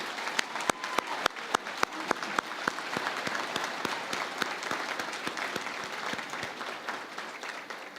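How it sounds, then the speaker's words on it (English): A crowd at a university commencement ceremony claps steadily with dense, sharp hand claps that keep a constant level throughout, with no voices over it. "Can we give a round of applause"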